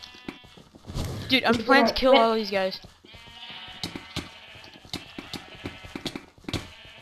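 Sheep bleating in the game Sheep Quest, a loud wavering bleat early on followed by scattered thuds and clicks, with people talking over it.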